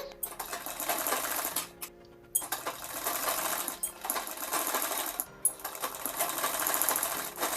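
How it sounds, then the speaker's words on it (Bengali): An electric sewing machine stitches lace onto a prince-cut blouse in quick, loud bursts of rapid needle chatter, broken by two short pauses, with no voices. "সেলাই করে নিচ্ছি আমি এটাতে"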